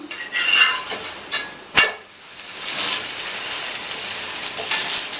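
Roti on a hot pan: a brief sizzle, then a sharp clatter as the flatbread is flipped, followed by a steadier, softer sizzle as the other side cooks, close by.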